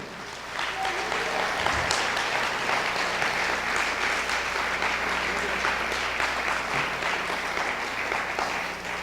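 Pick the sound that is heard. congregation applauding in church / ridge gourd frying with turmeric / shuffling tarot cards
congregation applauding in church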